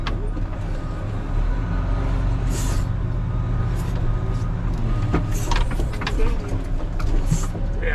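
A Volvo 220G wheel loader runs nearby with a steady low engine rumble, overlaid by intermittent hisses and clanks from the machine.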